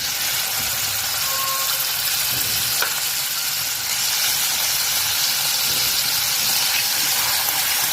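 Paneer fries in hot oil with a loud, dense, unbroken sizzle close up, a few faint clinks and a brief squeak rising over the constant hiss.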